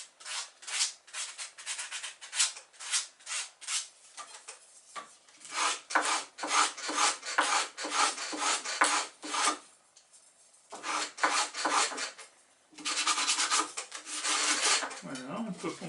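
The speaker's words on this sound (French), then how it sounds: "on peut ensuite poncer les côtés ici, arrondir un peu les angles." Bamboo kitchen tongs being sanded along their sides and rounded corners, a dry rasping rub in repeated close strokes, arriving in bursts separated by short pauses.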